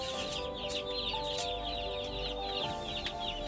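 Small young chickens, about a hundred of them, clucking and peeping steadily together in a chicken nursery, a dense continuous chorus of high chirps with no talk.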